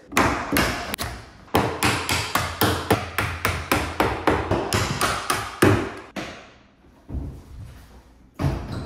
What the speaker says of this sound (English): What I'm going to do is remove all of these pins.